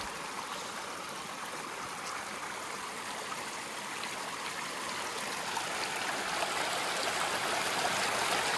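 Big Spring waterfall in Highland, Wisconsin, flowing in a steady, soft rush of falling and splashing water that continues evenly and unbroken, with no voices.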